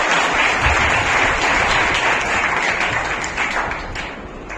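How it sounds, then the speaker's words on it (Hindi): Loud, steady applause from an audience at an orator-of-the-month award ceremony, dense clapping filling the room and tapering slightly toward the end. "जोरदार तालियां विजय राजपूत सर"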